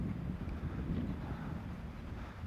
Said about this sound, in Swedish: Just nu blåser det som fan och det är byiga vindar som tusan